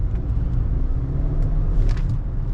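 A Hyundai Kona rolls over a speed bump during a test drive, heard from inside the cabin as a steady low road rumble with a few soft thumps and rattles partway through.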